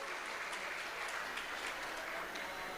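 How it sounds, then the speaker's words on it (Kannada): An audience at a stage function of the Graha Siddharama Mandala worship event claps steadily to honour former Chief Minister Bommai. The applause is a continuous, even patter of many hands, moderately distant. "ಎಲ್ಲರ ಚಪ್ಪಾಳೆ ಮುಖಾಂತರ ಅಭಿನಂದನೆ ಸಲ್ಲಿಸಬೇಕು"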